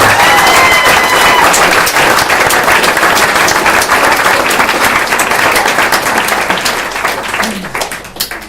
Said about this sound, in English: So I think that deserves a round of applause for Sophie for organising.